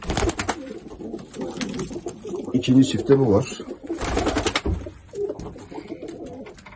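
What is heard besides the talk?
pigeons cooing in a loft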